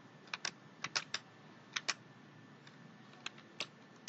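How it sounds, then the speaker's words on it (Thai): Keystrokes on a computer keyboard while typing in Lao in Microsoft Excel, quiet and close, come in scattered short bursts of a few clicks with pauses between them. "โอเคเขามาพิมพ์เบิ่ง"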